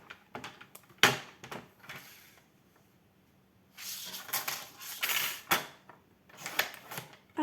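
Photo paper being cut to size for an album, heard as sharp clicks and knocks followed by a run of scraping, rasping cutting strokes close to the microphone in a quiet room.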